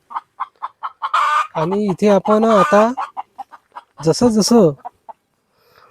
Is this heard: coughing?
no